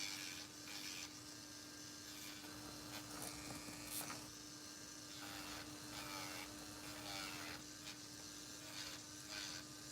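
A nail file rubs steadily back and forth over gel nails in quiet, continuous strokes, with a soft constant hum running beneath.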